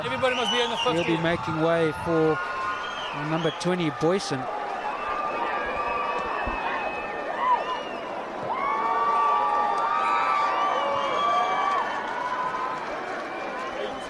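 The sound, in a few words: rugby stadium crowd cheering a player substitution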